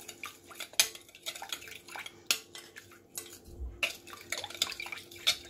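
Yeast and sugar being stirred by hand in a bowl for a soft chicken-stuffed bun dough, with repeated light clinks and scrapes of a utensil against the dish, close and fairly quiet, no talking.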